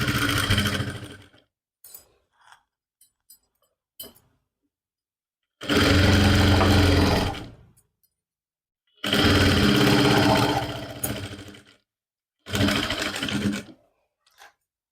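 A sewing machine stitches a lined suit in three loud bursts of fast, even motor whirring, each a couple of seconds long, separated by quiet pauses with a few small clicks of handling.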